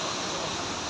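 Rainwater pours down onto a flooded city street in Dhaka, a loud, continuous broadband rush of falling and splashing water with no talk over it.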